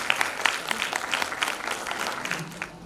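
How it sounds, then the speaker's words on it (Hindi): Steady, moderately loud audience clapping for a participant at a state-level Sanskrit talent competition, with individual sharp claps standing out over the wash of applause. "और एक बार पुनः जोरदार तालियां कृतिका गोस्वामी के लिए।"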